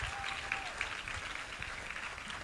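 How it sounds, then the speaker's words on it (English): Health summit audience clapping in a brief, even burst of applause, fairly faint and continuous with a few louder claps. "Now I want you to give yourself a round of applause for making it to this point."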